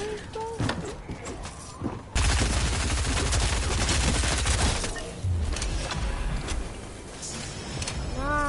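Rapid submachine gun fire from a first-person video game, a dense loud burst of automatic shots running for several seconds after a quieter start, with a voice talking over parts of it.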